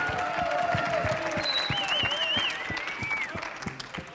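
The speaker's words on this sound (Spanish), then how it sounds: "Recibamos con un fuerte aplauso al enterado de turno, Vicente Meroso." A studio audience on a Spanish-language comedy show applauds in a dense, steady burst that fades slightly toward the end, with a few whistles and cheers over the clapping.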